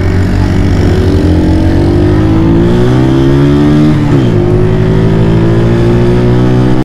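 A small motorcycle engine revs hard and steadily while climbing a steep, extreme mountain road. The engine is loud and close, holding a continuous drone whose pitch dips briefly and then rises again.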